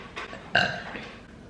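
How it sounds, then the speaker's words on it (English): A single short, close burp rises out of a quiet room after a brief faint sound before it. "I'm gonna burp"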